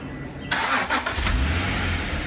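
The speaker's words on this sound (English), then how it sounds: "Car will crank right up." An Acura NSX sports car started by remote start: a sudden crank catches and settles into a steady, close idle with no one talking.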